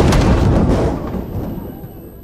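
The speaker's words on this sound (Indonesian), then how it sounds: "tiba-tiba pesawatnya disambar petir" Lightning strikes an airplane: a loud, heavy rumbling crack bursts out at once and then rolls away, fading into a lower, steady roar.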